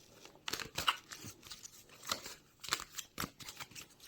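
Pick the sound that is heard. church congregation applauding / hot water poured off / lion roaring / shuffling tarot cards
shuffling tarot cards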